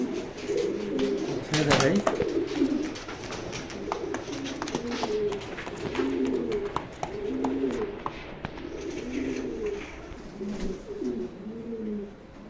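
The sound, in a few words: racing pigeons cooing in a loft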